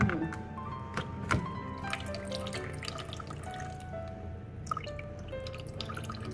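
Water runs into a drawer of sprouting mung beans and is then tipped out, heard as a soft trickle and splash with scattered drips and small clatters, fairly quiet and close by.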